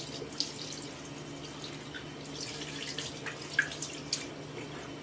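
Water running from a tap while soap is rinsed off hands, a soft continuous splashing hiss with a few small drips and splashes, quiet and close.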